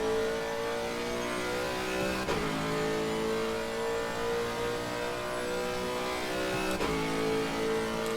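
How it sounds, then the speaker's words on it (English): A steady, thin-sounding GT3 race car engine in Assetto Corsa Competizione at Kyalami drones at high revs with two abrupt gear shifts, each dipping the pitch before it climbs again; no voices. "Very tinny engine."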